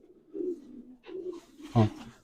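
Pigeon cooing at a pigeon show, several soft, low coos in a short run, close and moderately loud, with no talking over them.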